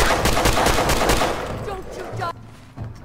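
A grenade explosion and gunfire in the video game Fallout 4 hit loud and dense, then a sharp cutoff leaves a short rumbling tail.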